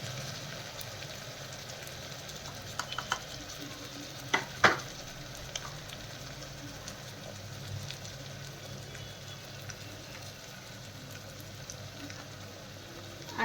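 Food fries in a pan at low volume, giving a faint, steady sizzle. A few light clicks and a couple of louder knocks come early, and no one speaks.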